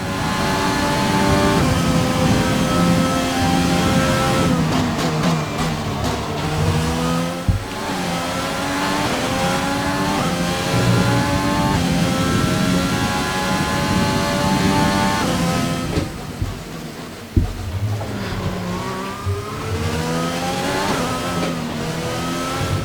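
A race car laps a track in the F1 2020 video game, its engine revving loud and continuous through repeated rising and falling gear shifts, with brief dips at braking and occasional tire squeal, and no speech.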